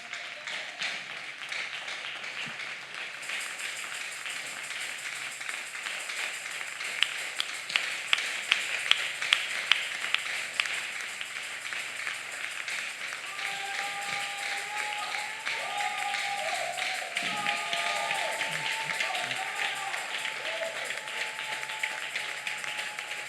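A church congregation at a French-language sermon stands and applauds the word of God. Dense, steady clapping fills the room, and raised voices and cheers join in toward the later part.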